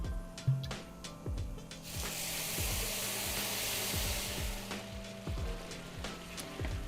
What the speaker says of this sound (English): Now we'll deglaze the pan with some white wine.